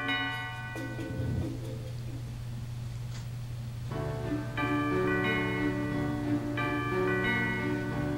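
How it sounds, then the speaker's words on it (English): A bell in a Pokepark 2 video game rings out with sustained, sharp tonal strikes over a steady hum of game music, swelling clearly around midway and lingering to the end. "Let's go across and ring that bell."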